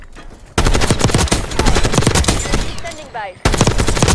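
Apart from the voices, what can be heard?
gunfire from video game Call of Duty Black Ops 6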